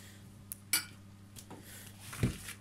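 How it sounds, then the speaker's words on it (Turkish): A spoon stirs a coconut cookie dough in a bowl, giving a few faint scattered clinks and scrapes against a quiet background. "Şimdi bunu da şöyle karıştıralım."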